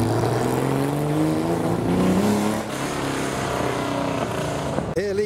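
A Toyota Supra sports car drives past at a crowded Porsche gathering, its engine tone sliding down as it goes by close and loud, with voices talking over the background noise.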